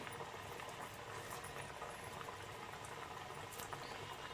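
Vegetable cutlets frying in hot oil in a home kitchen, giving a steady, dense bubbling sizzle that stays even throughout, with no talking.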